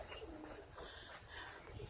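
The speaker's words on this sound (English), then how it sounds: "First time we're gonna let these birds out." Young racing homing pigeons coo softly and faintly from a loft, low murmuring calls that run continuously with no talk.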